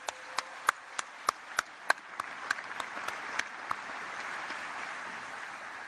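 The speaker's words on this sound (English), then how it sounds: "let's give the band and the chorus another round of applause." Audience applause for a military band and chorus at a national memorial day observance, starting with a few sharp distinct claps that quickly swell into a steady round of clapping, then gradually fading.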